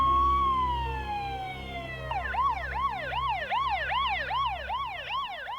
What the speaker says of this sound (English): an ambulance rushed Don to the nearest hospital.